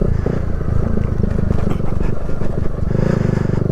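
A Kawasaki Z125 Pro motorcycle engine drones steadily and loudly while riding on an adventure trail, its low buzzing note close and continuous with wind noise throughout.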